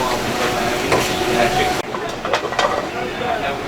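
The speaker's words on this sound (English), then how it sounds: "Dump the onions in here." Onions dumped into a hot pan with pork chops on a switched-off stove, a loud sizzle and scraping clatter that drops sharply then continues with crackling and stirring knocks, with a voice talking over it.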